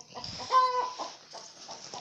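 Hens cluck inside a henhouse in a series of short, close clucks and soft calls that repeat steadily over a quiet background.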